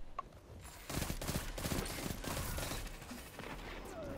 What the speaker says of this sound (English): We're gonna go skeet shooting with tractor cannon for the rest of the game